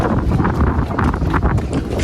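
Strong wind on Girnar hill in foggy monsoon weather, loud continuous buffeting rumble of gusts battering the microphone with no let-up.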